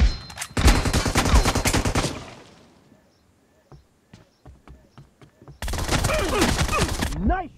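Bursts of automatic gunfire from a multiplayer shooter game, dense rapid volleys at the start and again near the end, with scattered single shots in between; voices of players are heard over the quieter stretch.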